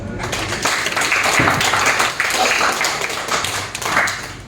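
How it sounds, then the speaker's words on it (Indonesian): Classmates applaud a student named Radit in a classroom, a steady patter of hand claps lasting the whole moment, fairly loud and close with no talk over it. "Kita beri aplaus dulu untuk Radit"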